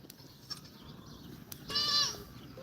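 Goats on a farm bleat once in a short, nasal call near the end, mid-distance and moderately loud, after quiet background noise with a few faint knocks.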